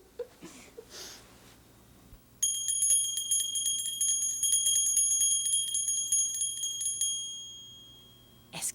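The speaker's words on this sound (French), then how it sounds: "La petite cloche." A small bell rings in a rapid, steady stream of bright metallic dings for several seconds, clear and close in a quiet room, then fades out.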